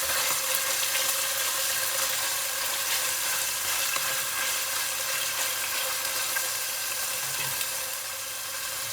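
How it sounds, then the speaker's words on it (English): Chicken frying in a pan for Anglo-Indian pish pash, a steady, dense sizzle that holds evenly throughout with a faint scrape of stirring, no voices. "So you keep frying the chicken till it becomes nice and firm and changes color."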